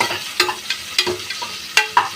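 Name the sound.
onions frying in pan for vegetable biryani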